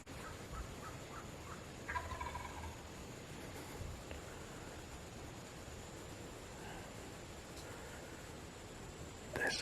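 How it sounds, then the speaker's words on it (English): A wild turkey gobbler gobbles in the distance on Florida public land, faint over steady outdoor hiss and ambient noise, with a few soft hen clucks from about 25 yards away scattered between. "I have a hen clucking 25 yards in front of me and a gobbler responding"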